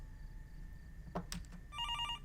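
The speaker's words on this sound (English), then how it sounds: "The phone just rang, even though it's out of service." A telephone rings in the video game Fears of Fathom with a quick, warbling electronic trill. The ring arrives late in the clip after a couple of short clicks and thuds, heard clearly over a quiet low-end ambience.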